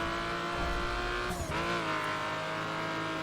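A hot rod races along in The Crew, its engine holding a steady, loud drone with a short whoosh or tire scrub partway through.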